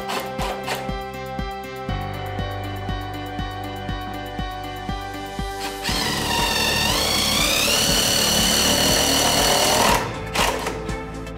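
A power drill bores pilot holes for a strike plate, to take #10 2.5-inch screws, during a VX350 moving glass wall installation. It whirs loudly and close with rapid chattering, then a higher sustained whine as the bit cuts in before winding down.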